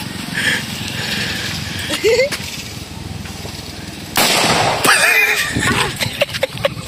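A homemade PVC pipe cannon, a boga, fires with sharp loud bursts and pops amid outdoor chatter and background noise, several blasts spread across the stretch with a bigger boom midway.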